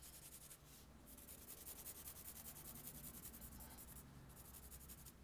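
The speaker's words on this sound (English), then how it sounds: "let me just draw this with a pencil." A pencil scratches across paper while darkening in letters, with a quiet, continuous rhythmic rubbing and short strokes, steady and near, with no talk.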